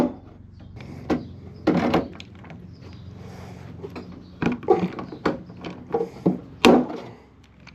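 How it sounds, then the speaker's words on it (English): Riveting on the upper cowl of a Sonex aircraft produces a series of sharp, close clacks and snaps in an uneven rhythm, with brief quiet gaps between them. "Go ahead and install a rivet."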